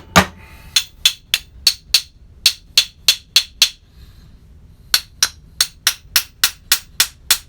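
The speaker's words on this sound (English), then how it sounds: "See if we give it a little whack with a hammer." Sharp metallic hammer strikes on a rusty bench vise ring out in a steady rhythm, roughly a dozen blows, a brief pause, then another quick series, loud and close.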